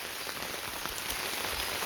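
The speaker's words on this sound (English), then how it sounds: "I've had continuous rain going on" Steady rain falls on a surface outdoors, an even wash of patter and drops close by, moderate in level, with no voices.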